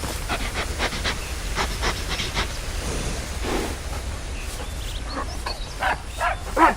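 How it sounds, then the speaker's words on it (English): A friendly dog in the video game Red Dead Redemption pants in quick, rhythmic breaths close by, with a short run of louder huffs toward the end. "Friendly dog here."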